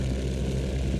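A seaplane's propeller engine in the video game King Kong drones loudly and evenly, like a small plane flying nearby.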